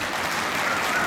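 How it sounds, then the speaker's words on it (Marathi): Applause from an audience at a polytechnic diploma ceremony in Pune, a steady, dense wash of many hands clapping for about a second with no pause. "तुमच्या स्वतःसाठी टाळ्या होऊ द्या ना"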